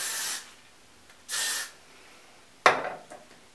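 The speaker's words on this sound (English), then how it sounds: "And then I'm going to take my hairspray" Three short hissing spray bursts from an aerosol can, close and fairly loud, separated by brief pauses, the last one sharper and fading out.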